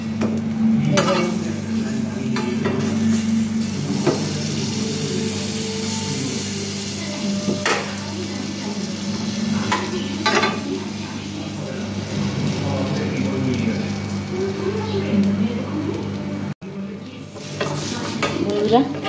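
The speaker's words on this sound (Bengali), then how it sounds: "রুটির স্লাইসটা ভালো করে ভেজে নিতে হবে, উল্টি পাল্টিয়ে ভেজে নিতে হবে" Bread slices fry in a pan for a sandwich, giving a steady close sizzle with scattered stirring and utensil scrapes against the pan, continuous throughout at fairly even loudness.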